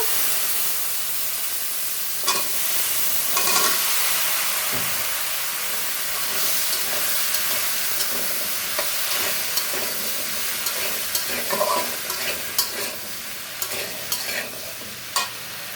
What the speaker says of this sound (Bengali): তেল গরম হয়ে গেছে দিয়ে দিব কালো জিরা আর শুকনা মরিচ ফোড়ন দিয়ে দিব হলুদ দিয়ে দিব কেটে রাখা ভেন্ডিগুলো